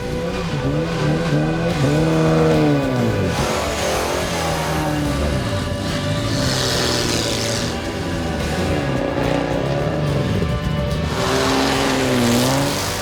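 Classic Porsche and Lancia race cars on a closed-road Tour Auto special stage roar close by, revving hard through gear changes and rising and falling as they pass, with some tire noise and no talk.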